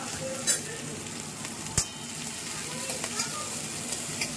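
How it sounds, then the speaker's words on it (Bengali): Whole garam masala and garlic fry in hot oil in a home kitchen, a fairly quiet, soft sizzle. A few sharp clicks or clinks from a spoon or pot stand out near the start and middle. "আগে একটু গরম মশলা ফোড়ন দিলাম, গোটা গরম মশলা ফোড়ন দিলাম, রসুন দিলাম।"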